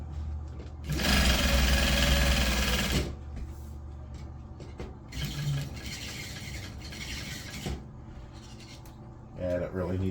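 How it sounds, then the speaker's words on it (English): Sewing machine stitching cloth for a Triumph GT6 car seat's upholstery, a steady loud whirring run of about two seconds followed by shorter, quieter stitching bursts and a few clicks, with someone speaking between them. "as I'm sewing, I'm keeping pressure outwards"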